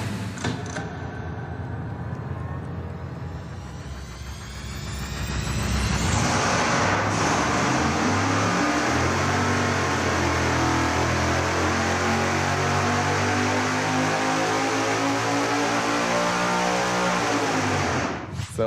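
A supercharged big-block Chevy engine run hard on a dyno: a steady loud roar that climbs in pitch, surges sharply to full power around the middle, then holds at a sustained high-rpm howl until it cuts off at the end.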